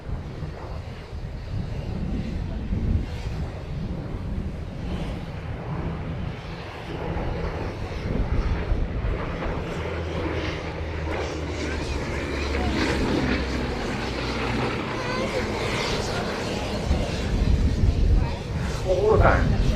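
A Bristol Blenheim flies past at Duxford during a Battle of Britain airshow, its propeller engine drone rising steadily and staying loud throughout, with crowd noise and commentary underneath.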